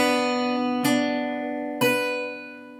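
Fingerpicked guitar notes, the top three strings pinched together twice, each ringing out and slowly fading, close and clear with no talking.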